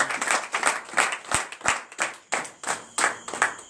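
A church congregation at a night deliverance and prophecy service claps in a strong, rhythmic beat, with bursts of many hands landing together in regular pulses, loud and close, with no talk over it.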